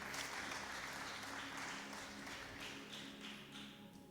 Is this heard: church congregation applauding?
yes